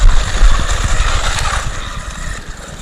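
Arrma Mojave Grom RC truck driving on pavement, a loud, steady electric motor whine with gritty tire rumble that fades slightly as it moves away, with no voices.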